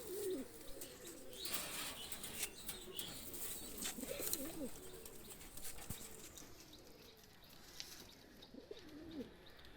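A Kasuri male pigeon being released, with flapping wings and coos amid a busy backdrop of other pigeons calling at moderate loudness throughout.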